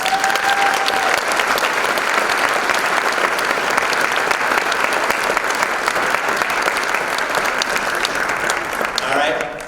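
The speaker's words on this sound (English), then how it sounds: "Let's give them another round of applause." Sustained applause from a pageant audience at the Miss Door County event, a dense, even wash of many hands clapping for nearly ten seconds, with faint cheering and voices mixed in.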